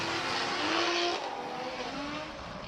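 Formula DRIFT Japan drift cars slide through a corner at Okayama, a sustained roar of engines with squealing tires, steady and fairly loud from a moderate distance, with no voices over it.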